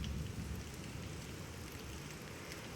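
Heavy rain falling outdoors, a dense, even hiss of drops on the roof and surfaces, steady and unbroken for the whole stretch, with no voices over it.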